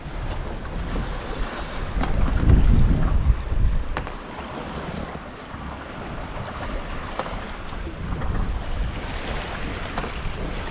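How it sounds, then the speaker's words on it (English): A sailboat running downwind offshore under a poled-out headsail at sea, with steady rushing waves and water along the hull plus wind buffeting the microphone, swelling louder for a stretch early on, no voices. "Down below we're still running downwind under a poled out head sail"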